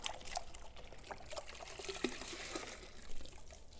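A sponge is rinsed and squeezed in a bucket of water during a car wash, giving close, quiet sloshing and trickling water with small splashes and drips, no talk.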